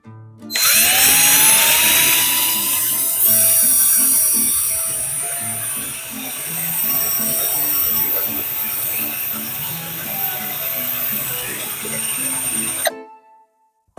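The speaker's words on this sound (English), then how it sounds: "it would have been better if I countersunk it before I drilled my pilot hole" A power drill bores a pilot hole into pallet wood for a workbench, its motor whining steadily and loudly close up for most of the stretch, with pitch dips as the bit bites, then cuts off abruptly near the end.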